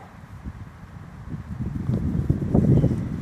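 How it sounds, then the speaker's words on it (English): Wind gusts buffet the microphone in low rumbling waves on an outdoor football field, building stronger toward the end, with no voices. "it is gusting wind right now"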